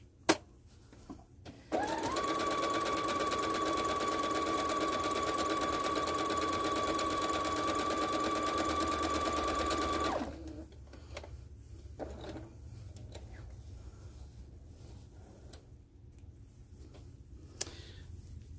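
Sewing machine running a zigzag stitch on scrap fabric, a steady close mechanical whir with fine rapid ticking that runs for about eight seconds, then stops, followed by faint handling clicks and rustles.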